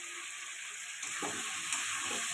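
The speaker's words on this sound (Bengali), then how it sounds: "লঙ্কার গুঁড়ো, এটা ভালো করে কষাতে থাকবো।" Spices with chili powder are sautéed in a pan for a fish curry with ridge gourd and potato, making a low, steady sizzle with soft stirring scrapes in the second half, close up and with no voices.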